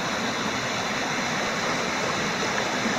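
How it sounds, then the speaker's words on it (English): A creek runs beneath a small wooden bridge near Table Rock, giving a steady, close rushing and burbling of water that stays even and unbroken throughout, with no voices. "But I just thought I'd show the creek."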